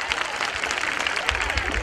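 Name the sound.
loud applause at a school annual function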